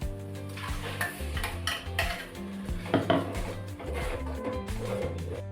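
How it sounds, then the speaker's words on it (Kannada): Freshly ground masala paste goes into a cooking pot, heard as close metallic clanks, spoon scrapes and stirring over a faint sizzle, with a few sharper knocks midway and no clear talk. "ನಾನು ಅವಾಗಲೇ ರುಬ್ಬಿಟ್ಕೊಂಡಿದ್ನಲ್ಲ ಆ ಮಸಾಲೆ ಹಾಕ್ತಾ ಇದ್ದೀನಿ"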